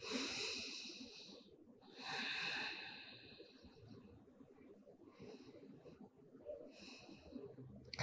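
Slow, steady yoga exhalations during a sun salutation warm-up, several soft airy breaths out repeating at an unhurried pace, close and quiet over faint background.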